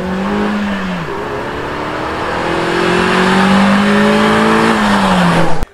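Renault Clio 3 RS engine revving hard as it accelerates, pitch sweeping up through the gears with brief dips at shifts, loud and close, with a rising roar toward the end and no talking.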